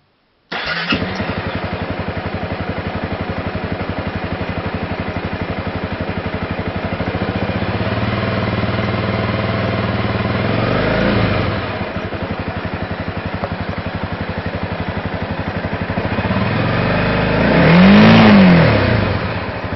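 Honda CRF 250L motorcycle exhaust, compared between an FMF aftermarket pipe and stock: the engine starts, idles with a loud steady burble close by, dips briefly, then revs up in a rising and falling surge near the end.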